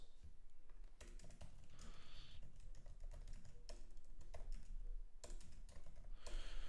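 Typing on a computer keyboard, rapid irregular clicks and keystroke bursts at close range, quiet but steady throughout, with no talk.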